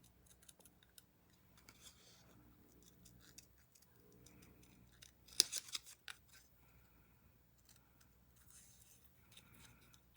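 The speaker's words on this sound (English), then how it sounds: "So this, I'm just going to fussy cut this." Scissors fussy cutting a small piece of paper card, rendered as quiet intermittent snips and rustles with a brief sharper burst of cuts midway, close and low in level.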